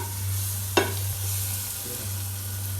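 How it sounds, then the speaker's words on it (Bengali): Beaten egg frying in a pan for an afternoon snack, a soft steady sizzle under a low continuous hum, with one sharp utensil tap and light stirring scrapes, close and quiet, no voices. "এই ডিম ভাজছে"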